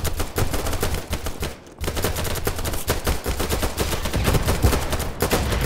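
Rapid gunshots from a free online shooter game, dense automatic bursts with sharp repeated cracks filling nearly the whole stretch, loud and close, with one brief lull midway.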